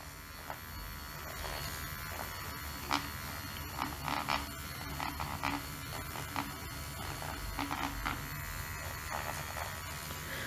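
A toy electric toothbrush hums with a steady buzzing drone, close and continuous, with small clicks and rattles from handling scattered through it and no speech.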